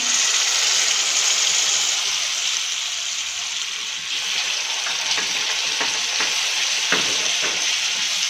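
Tomato gravy poured into a hot pan of frying ginger and garlic gives a steady, loud hiss and sizzle, broken near the end by brief spattering pops and scraping stirs.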